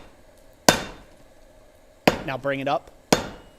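A blacksmith's hammer strikes hot steel at a gas forge, three sharp, loud metallic blows spaced well apart with ringing decay. A man gives brief instructions between the second and third strikes.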